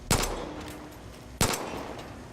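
Two loud, sharp gunshots spaced over a second apart, fired at a power unit in the video game Far Cry at a gold mine, each with a short ringing tail.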